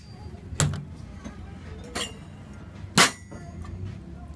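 A cocktail glass being chilled for a sidecar variation gives a few sharp glassy clinks spaced about a second apart, the last one loudest, over a quiet bar background.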